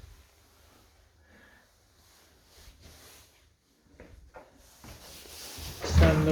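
A brand-new standard chest of drawers in a furnished flat bedroom: a quiet room tone, a few soft knocks, then a loud wooden slide and clunk near the end as a drawer is worked.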